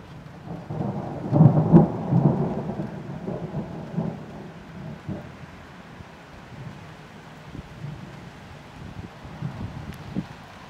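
A thunderstorm over Jelgava, Latvia: deep rolling thunder rumbles heavily early on, then fades into a low, steady wash of rain and wind, with a few fainter distant rumbles later.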